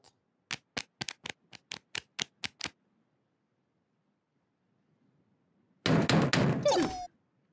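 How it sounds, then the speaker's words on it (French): Knocking on a door in the children's cartoon Twirlywoos: a rapid series of about ten sharp, evenly spaced knocks, followed by a pause and then a brief burst of a different, noisier sound near the end. "Quelqu'un frappe à la porte?"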